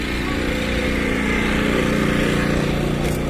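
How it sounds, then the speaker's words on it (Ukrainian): Generators run outside shops in a town, producing a loud, steady engine drone and rumble that goes on unbroken throughout. "ось тут в магазині теж генератор. От і там далі ще десь генератор."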